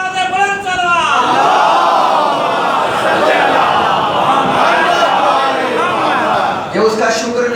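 At a Muharram majlis, a large gathering answers a preacher with a loud, unified salawat. The massed voices swell and hold for several seconds between the speaker's raised lines at the start and end.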